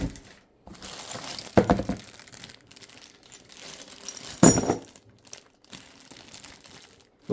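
Plastic wrap and packing material from a Fucare Scorpio fat-tire ebike box crinkle and rustle in short bursts, with two louder crackling handfuls standing out from quieter handling noises close by.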